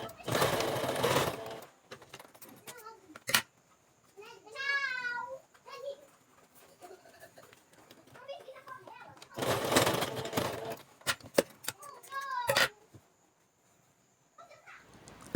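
Sewing machine stitching elastic onto raw cotton fabric, running in two short loud bursts separated by quiet stretches with someone talking between them.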